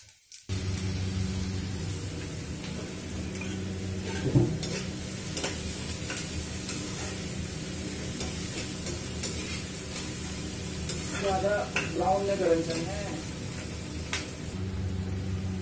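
Cumin seeds roasting in hot oil in a pan, a steady close sizzle and crackle running throughout, with a few brief stirring scrapes and clinks along the way and no talking.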